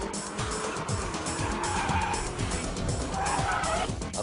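A car driven by Keiichi Tsuchiya drifts with loud, continuous tire squeal over a roaring engine, the screech sustained throughout without a break.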